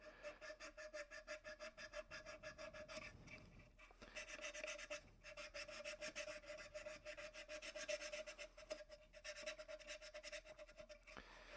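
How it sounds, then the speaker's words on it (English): Steady, rhythmic rasping of 500 grit sandpaper rubbed back and forth over a small wooden stick, close and fairly quiet, with continuous strokes and a brief pause midway. "we're just going to do a little bit more 500 grit right around here"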